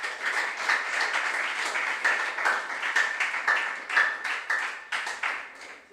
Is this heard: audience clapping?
yes